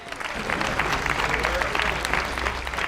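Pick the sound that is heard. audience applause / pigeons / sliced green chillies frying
audience applause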